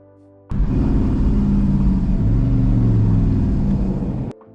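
A 1989 Dodge Shelby Dakota pickup truck engine kicks in abruptly and runs loud and close for several seconds, a deep rumbling drone with shifting revs before cutting off sharply, with no talking.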